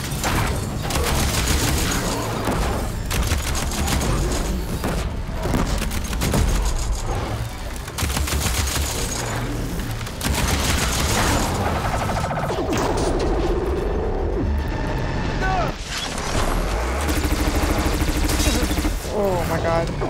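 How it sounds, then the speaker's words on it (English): Cannon fire booms almost constantly in the video game Horizon Forbidden West, a dense, loud barrage of blasts and explosions layered with game music and effects, while a player talks over the action. "Shoot off some of these cannons, man."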